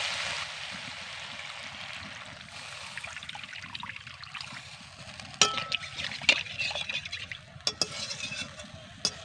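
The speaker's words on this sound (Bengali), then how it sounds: "এবার আমি জল দিয়ে দিচ্ছি" Water goes into a pan of oil-fried spices for a fish curry, giving a soft hissing, bubbling sizzle with a few sharp clinks of utensils in the second half, and no one speaks.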